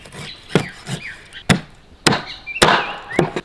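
A cleaver chops through pork ribs on a board outdoors, with about six sharp, loud, near thwacks at irregular intervals and faint background chirps between blows.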